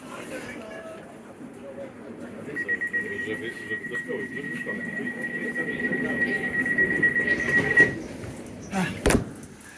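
Inside a London Overground train running from Barking Riverside to Gospel Oak on a rainy day: a steady low rumble with a sustained electronic tone, voices in the carriage, and a sharp door-like clack near the end.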